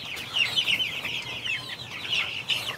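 Chickens at a poultry farm clucking repeatedly in short, overlapping bursts, close and clear, with a few sharper calls standing out over a quiet background.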